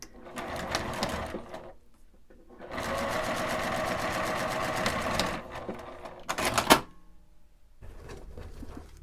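A sewing machine edge-stitches a nylon pouch in three bursts of fast, steady mechanical whirring: a short run, a longer run, then a brief final spurt, with quiet pauses between them.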